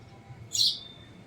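A sparrow gives a single bright chirp near 0.5–0.8 s, close and clear over a quiet low background hum, with no talking.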